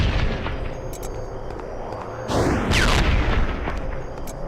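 An Arcane Bolt ranged attack in the Freedom Force vs the 3rd Reich video game, a sweeping whooshing shot that rises in pitch and ends in a loud burst over steady game ambience.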